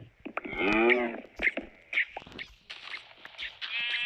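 Sheep in the Minecraft video game bleating several times in quick succession, wavering calls followed by shorter bleats, close and fairly quiet with no voices.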